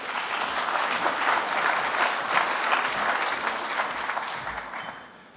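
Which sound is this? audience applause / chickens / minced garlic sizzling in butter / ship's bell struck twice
audience applause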